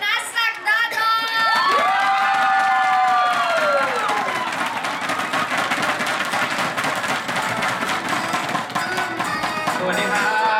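A concert audience greeting a singer cheers with high screams and shouts that sweep up at first, then settle into sustained clapping and cheering that carries on for about ten seconds.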